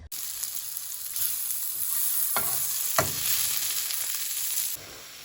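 Meat for a slow-cooker bolognaise sizzling steadily in a frying pan, a bright hissing fry with a couple of scraping stir strokes and a single clack of a utensil.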